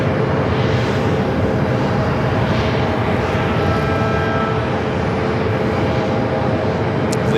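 Airliner pushing back from a gate at Phoenix Sky Harbor Airport, a loud, steady engine roar and hum that continues without a break.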